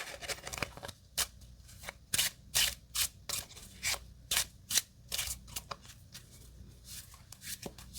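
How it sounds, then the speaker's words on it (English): Cards being shuffled in a run of quick riffling bursts, close and crisp, with short pauses between; no voices. "Let's give it one more shuffle, and then we'll deal out the first game"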